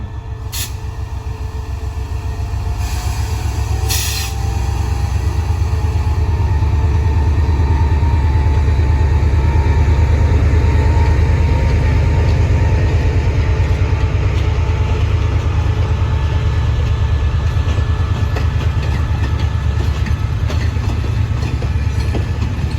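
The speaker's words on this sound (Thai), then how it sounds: "86 รถด่วนนครนะครับ ต้นทางนครศรีธรรมราช ปลายทางสถานีกลางกรุงเทพอภิวัตร" Thai express train No. 86 from Nakhon Si Thammarat to Bangkok, running very long with 19 cars, rumbles loud and steady with rhythmic wheel clatter on the rails and a brief high squeal near the start.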